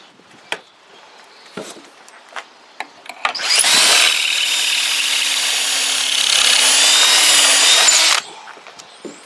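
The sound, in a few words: power drill drilling pocket holes in wood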